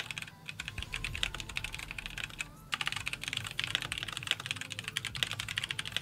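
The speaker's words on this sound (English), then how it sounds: "Can you mic the keyboard, please?" Rapid clicking keystrokes on a computer keyboard during a Heroes of the Storm live stream, a busy irregular patter of close, fairly faint taps with a brief pause partway through.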